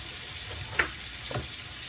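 Steak sizzles softly in a hot pan, a low, steady frying hiss with a couple of brief stirring scrapes, heard alone without talk.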